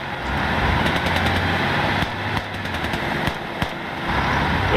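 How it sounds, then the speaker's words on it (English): A StuG assault gun fires in a Gates of Hell Ostfront battle, with rapid bursts of distant machine-gun and gunfire cracks and sharper nearer shots over a rumbling engine-like background. "So the Stug's firing up some stuff"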